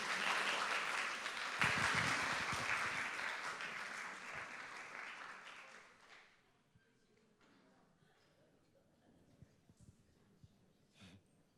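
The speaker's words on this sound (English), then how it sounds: "can you give a warm applause of welcome for Bozena Kopczynska and Barbara Malak-Minkiewicz" Audience at a film festival talk applauding to welcome two speakers, a loud, dense burst of clapping that fades out after about six seconds, followed by quiet room noise with a few small knocks.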